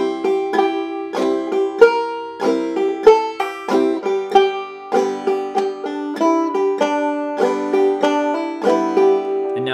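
Clawhammer banjo plucking a phrase of a song, bright percussive notes in a steady bouncing rhythm, close and clear, played alone without talk.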